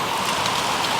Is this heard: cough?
no